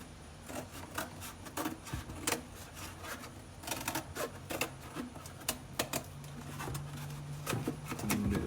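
Cardboard box template being cut while mocking up a gauge dash for a 1932 Ford five-window coupe, irregular scraping and snipping clicks in scattered bursts, close and fairly quiet, with no talking.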